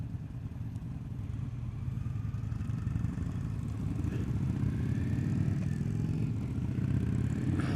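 Low, rumbling engine of a 2020 Indian Scout Bobber Twenty motorcycle running steadily while riding, with a throbbing drone that gradually builds slightly louder, close up.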